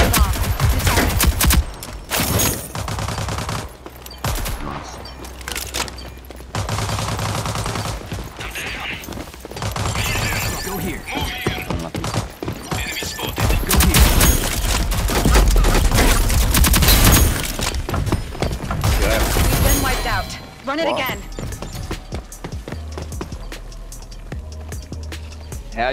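Dense video game gunfire in a ranked match, rapid overlapping bursts and volleys with occasional heavier booms, continuous and loud across the whole stretch.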